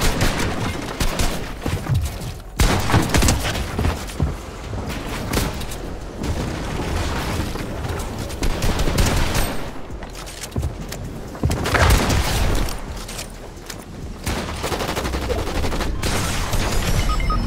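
Dense video game gunfire with rapid bursts and booming shots, loud and continuous throughout with brief gaps, no talk.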